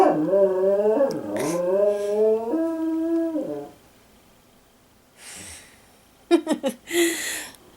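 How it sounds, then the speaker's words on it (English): A dog howls in long wavering, sliding tones for several seconds, close and loud, then pauses before snorting, whimpering sounds and a few short sharp noises follow. "I'm sorry, my dog is singing for you"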